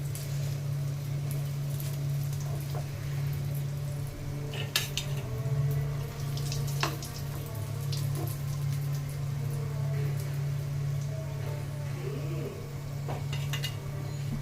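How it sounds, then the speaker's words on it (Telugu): Metal utensils clink against dishes and a pan as fried fish pieces are lifted onto a plate one at a time, with a steady low hum of kitchen or stove noise underneath throughout. "ఇప్పుడు చేపలు ప్లేట్ తీసుకుందాము ఒకటొకటిని"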